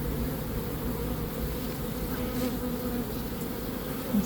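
Honey bees droning around hive frames near a drone comb, a dense continuous close buzz at an even level with no voices.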